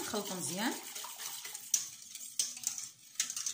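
A spoon stirs a panna cotta mixture with gelling agent in a pot, faint scraping and light clinks against the metal in an irregular rhythm, with a brief voice at the start.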